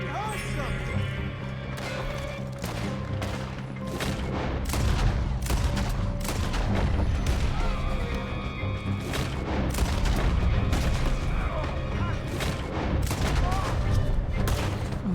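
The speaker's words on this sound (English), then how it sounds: "Oh shit, he's still shooting." Gunfire in Red Dead Redemption 2 during a shootout near a burning train: repeated sharp shots and booming impacts crack throughout a dense, loud mix, with people talking over them.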